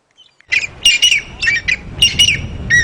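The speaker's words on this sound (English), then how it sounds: "We've found a pair of Shelley's Franklin. Listen to them." A pair of Shelley's francolins calls from near the ground on an evening safari drive, sending out a run of harsh, rhythmic squawking phrases that repeat loudly and close by.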